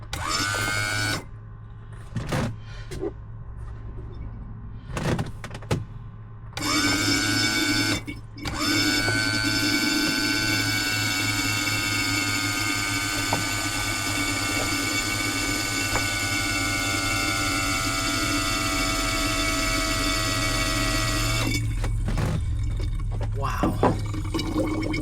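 Hydraulic pump of a 1994–2004 Ford Mustang convertible top running worn top cylinders up and down, a steady whining drone holding for about twenty seconds after short on-off bursts, close and loud.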